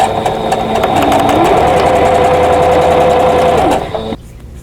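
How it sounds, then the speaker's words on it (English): A sewing machine chain-pieces quilt squares made from 2.5-inch white fabric, running in one loud, steady whirring burst of rapid stitching for about four seconds before stopping abruptly. "I'm just placing them together and stitching through"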